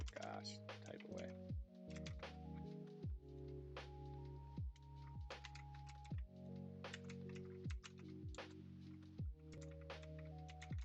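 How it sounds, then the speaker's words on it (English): Computer keyboard typing in scattered bursts of crisp clicks, close and fairly quiet, running under a voice and sustained tones. "Oh gosh, type away."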